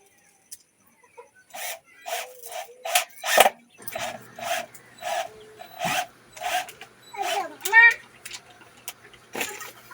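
Protruding screw heads on a wooden boat being built are sanded by hand, giving a run of about a dozen short, rhythmic rasping strokes up close. A faint bird-like chirp sounds near the middle.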